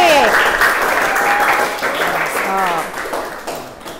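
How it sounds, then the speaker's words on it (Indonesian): Classroom applause in an Indonesian teacher-training session, a dense steady clatter of many hands clapping together that holds strongly and then slowly thins toward the end, with voices mixed in. "Tepuk tangan dong untuk kita semua."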